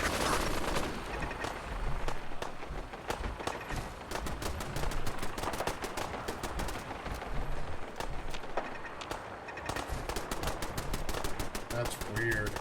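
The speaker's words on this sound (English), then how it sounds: "Why would that be shooting at me?" Enemy gunfire in Fallout 4 survival mode rattles out in rapid, dense bursts of automatic shots, loud and continuous across the clip, with a few short pauses between volleys.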